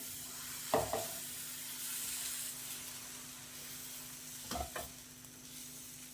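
Oats and beetroot dosa batter sizzling on a hot tawa, a soft steady hiss with two short scraping or clinking bursts of the ladle against the pan.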